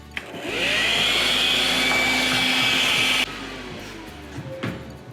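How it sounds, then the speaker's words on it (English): A household vacuum cleaner starts up with a steady, loud whine while sucking up grout debris, runs for about three seconds, then switches off and winds down. "We're gonna come over and grab my vacuum now, and we're gonna make a little bit of noise"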